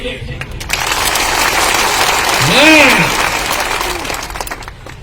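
A large crowd claps loudly and continuously, with a voice calling out and a rising-falling shout or whistle above the applause.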